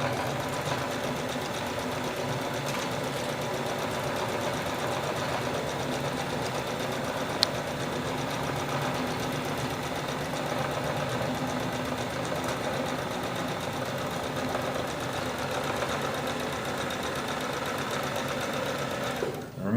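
A sewing machine stitches fabric in a steady, continuous mechanical whir with a fast rhythmic patter, close and moderate in level throughout.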